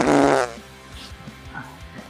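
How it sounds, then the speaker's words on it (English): A short, loud, buzzy fart rips out close by during a sports podcast taping, followed by quiet room noise with faint low thumps. "That's an honest-to-God fart"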